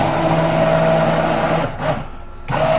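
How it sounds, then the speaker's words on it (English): An immersion blender whips a dessert topping with a loud steady motor whir that briefly cuts out, then restarts, with no talking over it. "we have my little handy dandy immersion blender, and I don't want to go too crazy on whipping this"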